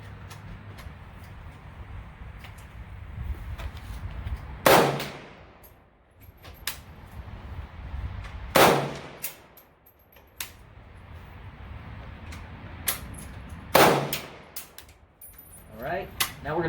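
AK-47 rifle shots fired with iron sights at a long-range target stapled to a 2x4, three loud sharp reports several seconds apart with quieter clanks and handling noise between them.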